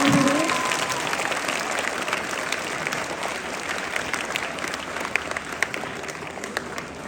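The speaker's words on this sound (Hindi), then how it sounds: "तालियां बजाओ। अरे तेज तालियों के साथ में शोर करें।" An audience at a school Teacher's Day celebration claps without pause, a broad sustained wave of applause that stays loud and even, with a brief voice at the very start.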